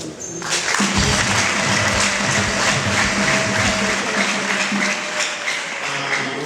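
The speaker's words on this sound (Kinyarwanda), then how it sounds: "natwe tubakiza amashyi menshi y'umuntu" An audience at a church event breaks into loud, sustained applause, dense clapping that holds steady for several seconds before easing slightly.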